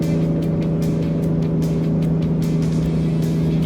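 A turbocharged Ford Ranger Raptor engine pulls steadily while towing a 2.5 tonne load, a constant low drone heard from inside the cabin with no speech.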